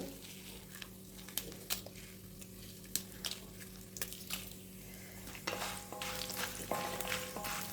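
Soft frying sizzle of nuts and dried red chillies in oil, with intermittent scraping and stirring clicks from a utensil in a pan, growing a little louder and busier toward the end.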